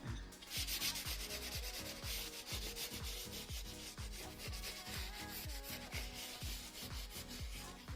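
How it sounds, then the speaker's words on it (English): Hand sanding on a painted area of a Nissan 350z Kazz 1.5-way differential makes close, steady rhythmic rasping strokes, about two per second, with no speech. "Just going to sand this little area here, where I've obviously been painting the thing."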